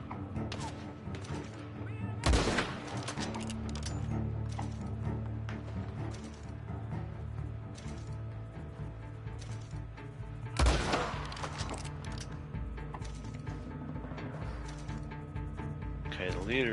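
Gunshots in the Western game Red Dead Online: two sharp, loud cracks stand out several seconds apart over a steady backdrop of game ambience and music, with a player talking throughout.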